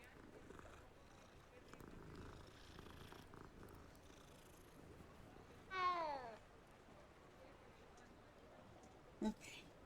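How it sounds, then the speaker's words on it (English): A cat in the game Hogwarts Legacy gives a single clear meow midway, with soft purring and a brief second sound later, set against quiet game ambience. "Another kitty. I must pet it."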